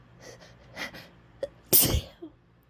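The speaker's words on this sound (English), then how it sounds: "trying to hold back and saying I'm not gonna sneeze." A single sharp sneeze bursts out after a few faint held-back breaths and sniffs, loud and close, ending in a brief quiet exhale.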